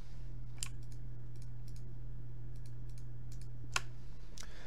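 Mouse clicks while working in ANSYS fluid simulation software, a few crisp, isolated clicks spaced irregularly over a steady electrical hum, close and fairly quiet.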